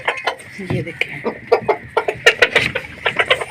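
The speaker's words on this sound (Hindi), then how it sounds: "ये देखें जी मुर्गियों को इंतज़ार है खाने का" A flock of chickens clucks rapidly and busily up close while waiting to be fed, with quick overlapping calls in a continuous burst.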